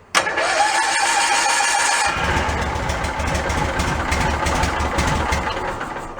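A Cushman Meter Maid scooter, running on a newly jetted carburetor, cranks with a whirring starter for about two seconds. The engine then catches and settles into a loud, steady, close idle.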